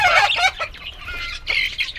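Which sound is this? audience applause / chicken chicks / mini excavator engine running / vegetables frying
chicken chicks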